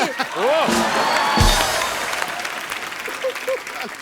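A studio audience at The Kapil Sharma Show applauds and cheers loudly for a few seconds, with a voice calling out over the clapping, which gradually thins out.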